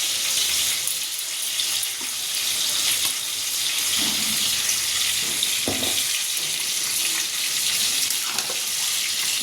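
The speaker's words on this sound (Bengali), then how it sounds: "সেই তেলের মধ্যেই আলু ভেজে নিচ্ছি" Potatoes fry in the oil left over from frying onions, a steady broadband hiss and sizzle that runs through the whole stretch, with a few soft clinks from stirring and no talking.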